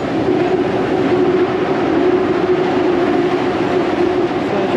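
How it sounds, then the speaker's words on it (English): A train rumbles past steadily and loudly nearby on a Bangkok street, a continuous roar of wheels on rails with no voices. "Train."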